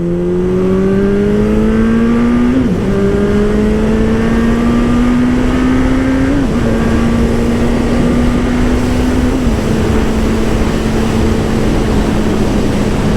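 A Suzuki Bandit motorcycle engine steadily accelerates through several gears, pitch climbing then dropping at each shift, loud and continuous, heard from the rider's position.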